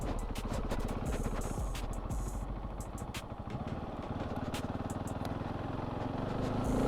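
A Husqvarna 701 Supermoto motorcycle is ridden off-road, its engine a faint low drone beneath constant wind buffeting and scattered clattering knocks.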